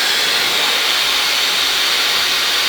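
A hair dryer blows steadily and loudly as hair is dried slowly around a round brush, a constant airy whoosh with no pauses.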